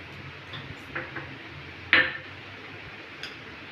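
Mustard seeds going into hot oil in a pan for tempering tamarind rice (puliyogare): a steady low sizzle with a few sparse, sharp pops and ticks, plus one brighter metallic clink near the middle, close by with no talking.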